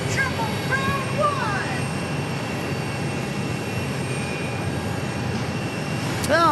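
Southwest Airlines Flight 1911, a Triple Crown special jet arriving from Las Vegas at Phoenix Sky Harbor, makes a steady broadband roar throughout, with small birds chirping in the foreground.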